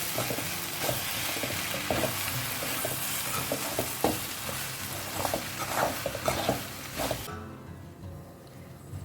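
Okra bhaji (bhindi) cooking in a pan gives a loud, steady sizzle, with repeated scrapes and light clacks of a spoon stirring through it for several seconds before it drops suddenly quieter near the end, and no one speaks.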